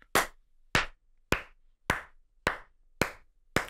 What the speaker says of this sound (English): Slow clap right here for great leadership.